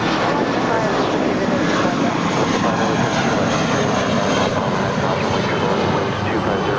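Airliner taking off from Los Angeles International Airport bound for Salt Lake City, its loud, steady jet engine roar filling the whole stretch with broadband rumble and hiss, while a voice talks faintly underneath.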